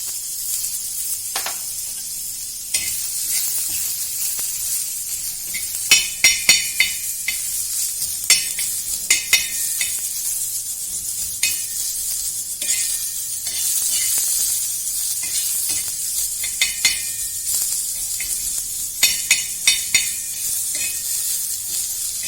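Onions frying in a little oil: a bright, continuous sizzle with scattered clinks and scrapes of stirring in the pan.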